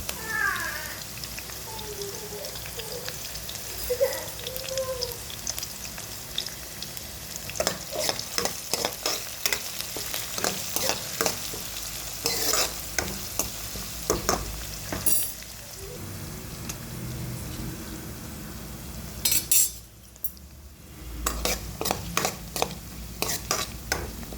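Sliced onion and curry leaves fry in hot oil in a pan, a continuous close sizzle broken by frequent scraping stirs of a spatula, with a short quiet gap near the end.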